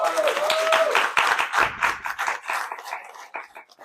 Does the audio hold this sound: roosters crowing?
no